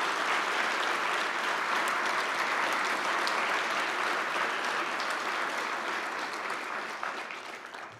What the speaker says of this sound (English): Let's give another round of applause for all our award recipients.